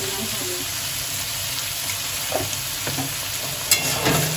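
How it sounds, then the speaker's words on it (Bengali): Potatoes and onions seasoned with salt and turmeric fry in a pan with a steady, close sizzle, broken by occasional scrapes and knocks of a stirring spoon. "এবার এটাকে আমি একটু ভাজা ভাজা করে দিই।"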